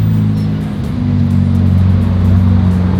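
A BMW engine rumbles and revs steadily at night on a Zurich street where supercars gather, a close, loud, low drone that swells slightly and holds without pause.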